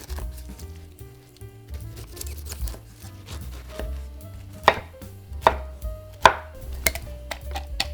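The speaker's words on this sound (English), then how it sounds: "Meanwhile, dice pineapple and mash it to release its juice." Rapid knife dicing of pineapple on a cutting board, steady close taps with a few sharper louder strikes toward the end, no talking.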